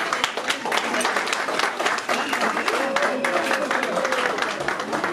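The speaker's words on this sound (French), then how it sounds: "On peut les applaudir plus fort quand même" Guests at an 18th birthday party clap loudly and continuously, close and lively, with voices and a drawn-out cheer or call rising over the applause.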